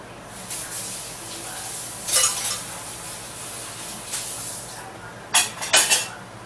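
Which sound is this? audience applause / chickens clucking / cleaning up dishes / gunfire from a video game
cleaning up dishes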